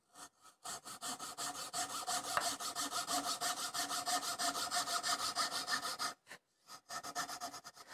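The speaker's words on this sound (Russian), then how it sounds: "и пилим." A hand saw cuts a wooden workpiece while guided by a magnetic saw guide during dovetail joinery. Its rhythmic, steady back-and-forth strokes rasp close and loud, pause briefly near the end, then resume.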